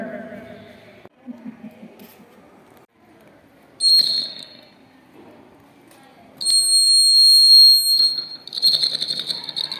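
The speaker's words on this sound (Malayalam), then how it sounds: "നായ ഈ ചെമ്പുകമ്പിയിൽ വന്ന് തട്ടുമ്പോൾ ഈ ബസർ അലാറം കേൾക്കും" An electronic buzzer alarm, a school dog-deterrent device triggered by contact with a copper wire, sounds in a brief burst, then a longer sustained drone, then another burst, following some quiet speech at the start.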